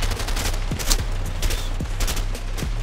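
Sustained rapid gunfire in the video game A Way Out, shots punching through walls: a dense, continuous rattle of automatic fire with sharp individual cracks, loud and close throughout.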